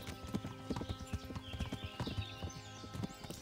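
A horse's hooves clip-clop in a steady, close walking rhythm in the medieval video game Kingdom Come: Deliverance, with no talk over it.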